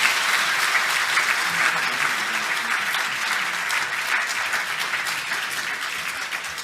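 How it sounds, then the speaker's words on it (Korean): A church congregation applauds steadily to welcome the pastor to the front, a sustained, even round of clapping heard alone at moderate loudness. "박수로 목사님 모시겠습니다"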